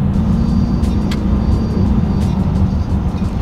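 A 2018 Genesis G80 engine hums at a loud, steady low drone from inside the cabin while the paddle shifters are tested, with a few faint clicks and no talking.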